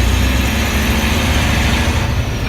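A heavy truck engine runs during a range-lever gear change, a loud continuous low rumble and drone holding steady with no talk.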